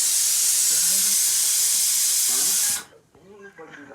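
A hookah gives a strong, steady hiss of drawn smoke and air that stops abruptly, followed by quiet voices talking nearby.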